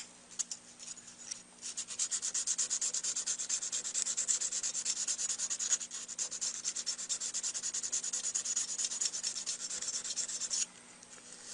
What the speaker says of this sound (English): We break out the grades of sandpaper, starting with about a 320.